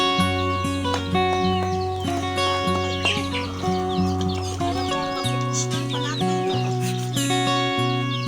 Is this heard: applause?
no